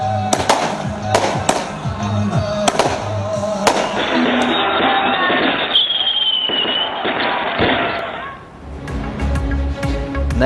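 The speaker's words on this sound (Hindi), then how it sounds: "नए साल की आमद पर कराची गोलियों की तरतराहट से गूंज उठा।" Rapid, crackling bursts of celebratory aerial gunfire across Karachi on New Year's night, dense and continuous with some sharper cracks, mixed with a whistling tone and a distant crowd murmur.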